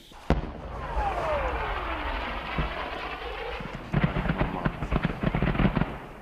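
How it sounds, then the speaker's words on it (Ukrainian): Long-range artillery fires a few kilometres away at a front-line position in Ukraine, giving one sharp boom, a long fading rumble, then a cluster of distant thuds and cracks. "за кілька кілометрів звідси працює далекобійна артилерія"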